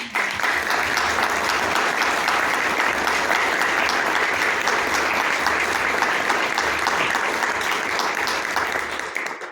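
An audience at a commemorative ceremony unveiling a plaque breaks into sustained applause, a dense, steady clatter of many hands that continues evenly for several seconds before tapering slightly at the end.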